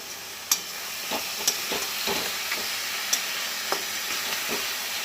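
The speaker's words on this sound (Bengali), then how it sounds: "এইভাবে মুড়োটা কিন্তু কষাতে হবে।" A fried katla fish head being stir-fried in spice paste, soft continuous sizzling broken by several sharp scrapes of a spatula against the pan, close and without talk.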